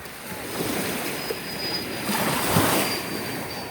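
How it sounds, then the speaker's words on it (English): Surf washing onto a Gulf of Mexico dog beach, a steady broadband rush of waves that swells and eases, with a faint high whine running through it and no talk. "my feet are in the ocean, or in the Gulf of Mexico"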